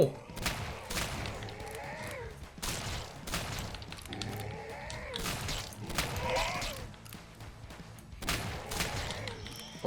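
Shotgun blasts in a first-person shooter, several sharp booming shots spaced a second or two apart, each with a short rattling tail, over game noise with someone talking between shots.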